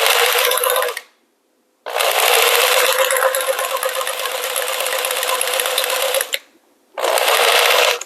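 Oster Showmaster electric sheep shears running at low speed give a loud, steady mechanical buzz that cuts off twice in short gaps and starts again, close to the listener.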